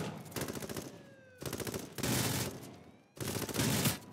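Rapid gunfire bursts from a video game shootout, three loud fusillades of closely spaced shots separated by brief gaps, with no voices over them.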